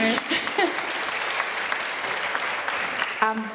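Theatre audience clapping at a season launch event, a moderate, steady patter of applause with a voice speaking over it at the start and again near the end.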